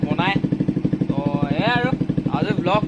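A motorcycle engine running after its self-starter was repaired at home, idling in a rapid, even chug close by while someone talks over it.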